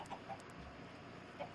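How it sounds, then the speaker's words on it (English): Chickens cluck faintly in the Minecraft video game, a few soft, short clucks spread across a quiet, steady background with no talking. "There were so many chickens."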